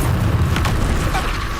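A Descendo spell slams down in Hogwarts Legacy, landing as a short, loud boom with a creaking, mechanical rumble that fades quickly.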